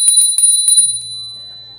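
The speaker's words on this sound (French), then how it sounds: "on va faire retentir la cloche 3 fois" A small bell rung three times during an oracle card reading rings several times in quick succession with bright, high chimes, fading into a quiet low hum.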